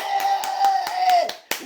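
Rhythmic hand clapping in a classroom, a steady run of sharp, close claps about five per second with a faint sustained tone behind them, ending in one last louder clap.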